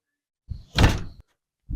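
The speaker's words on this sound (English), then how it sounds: "I'm shutting the door." A Subaru STI car door is pushed shut with a solid thunk at close range, followed by a short rattle as it settles, then a quieter second knock near the end.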